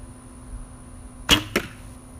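Two Beeman arrows shot from a bow strike a target in quick succession, each a sharp, close thwack, the first louder than the second, over a quiet outdoor background.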